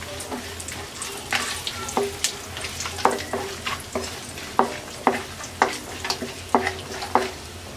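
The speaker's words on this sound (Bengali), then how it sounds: "গোটা মশলাটা আমরা হালকা একটু ভেজে নেব।" Whole spices (small cardamom, cloves, star anise and a torn bay leaf) sizzle in hot oil for a vegetable pulao. A steady close frying hiss carries regular scraping stirs, with no talking.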